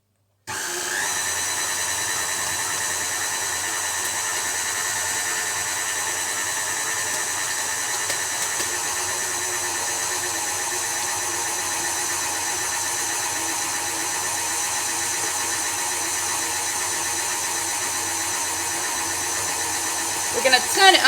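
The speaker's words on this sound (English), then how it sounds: "we're going to turn our mixer back onto a low-ish setting, low to medium setting, and we're going to add our olive oil" Stand mixer running steadily at a low-to-medium speed while kneading focaccia dough as olive oil is added, a constant mechanical whir and hum lasting throughout, close and fairly loud.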